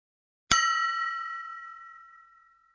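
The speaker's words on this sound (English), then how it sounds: "On hitting the glass with a little more force, the glass made a louder sound" A glass struck firmly with a spoon gives one clear, bright ring that decays slowly over about two seconds, with nothing else heard around it.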